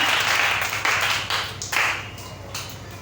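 A church congregation claps in unison during a service, rhythmic bursts of hand claps rising and falling with loud cheering, fairly close and filling the room.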